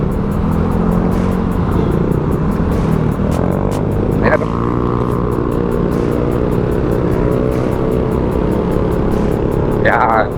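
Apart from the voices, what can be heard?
Honda Beat scooter engine riding in traffic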